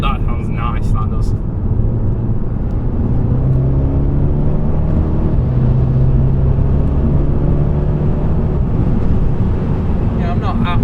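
An Audi S3 8V with a custom valved exhaust, tuned to around 400 horsepower, pulls hard under acceleration, its low engine and exhaust drone rising steadily and staying loud and close throughout.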